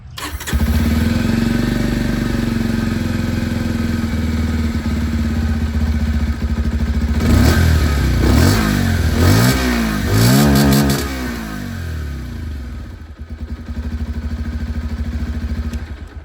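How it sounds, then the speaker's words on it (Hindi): A Bajaj Pulsar 125 motorcycle engine starts and idles with a loud, steady exhaust burble, then revs up several times before settling back to idle. "यहाँ पर आप लोगों ने पल्सर की जो आवाज़ है ये सुन ली है।"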